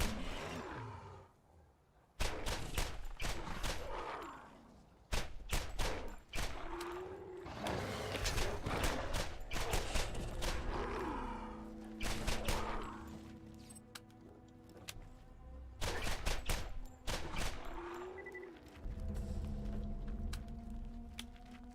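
Loud, sharp pistol shots from the Ladyfinger in the video game Borderlands fire in repeated bursts among in-game explosions, whooshes and mechanical clatter.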